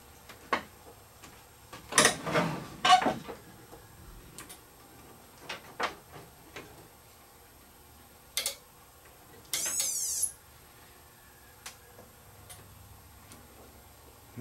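An old television set turning on gives scattered faint clicks and ticks in a quiet room, then one brief, high, wavering squeal near the end, with no talking.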